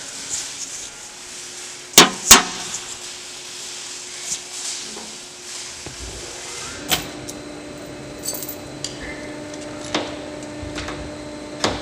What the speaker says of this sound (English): So we'll go ahead and slam these other bolts in there.